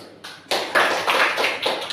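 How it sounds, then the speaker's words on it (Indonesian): A school class performs the rhythmic 'tepuk mantul' clap in a classroom: several sharp, loud bursts of hand claps in a patterned rhythm, close and filling the room with no speech. "kita tepuk mantul dulu"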